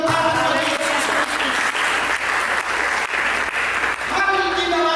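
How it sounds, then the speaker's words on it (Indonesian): Congregation in a church service clapping steadily together, a dense, loud burst of applause that swells and briefly dips before resuming, with music or voices faintly underneath. "mari kita berikan tepuk tangan bagi Yesus Kristus"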